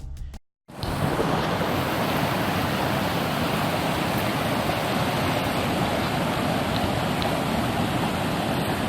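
Steady, loud rush of falling water from a waterfall along a mountain hike at Canadice Lake, a continuous broadband roar holding evenly throughout after a brief silent gap at the start.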